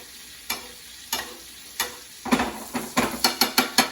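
Scallops fry in a pan while butter is basted over them, a soft sizzle punctuated by spoon clinks against the pan, spaced at first and then quickening into a rapid series of taps.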